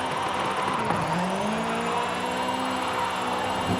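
A 1985 Toyota Sprinter Trueno drifts in Forza Horizon 5, its engine holding a steady, loud whine that slides up and down in pitch as the car slips sideways.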